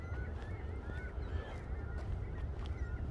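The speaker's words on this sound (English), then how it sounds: "there's lots of seagulls sitting there. Sitting on the ice." Seagulls gathered on breaking-up ice by open water, calling faintly in scattered short cries and squeals over a low steady outdoor rumble.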